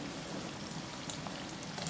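A medium chopped onion sautéing in about a tea glass of oil, a faint steady crackle and sizzle with scattered pops, no talk.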